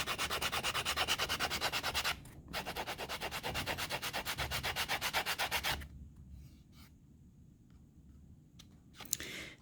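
A sanding block rubs down the edge of soft leather for a folding-knife pocket sheath, fast rhythmic back-and-forth strokes, close and steady, broken by a brief pause, then stopping, leaving faint handling clicks.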